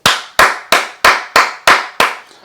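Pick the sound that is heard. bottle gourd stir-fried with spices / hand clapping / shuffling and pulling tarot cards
hand clapping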